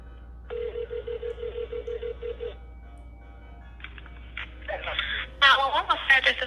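A telephone call to 911 rings out in a steady repeating ring tone for about two seconds, followed by a brief pause and then voices speaking close by.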